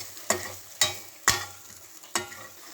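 Browned onions and carrot frying in a pan get stirred with four sharp, evenly spaced scrapes of a spoon against the pan over a quiet sizzle, close and clear with no voices.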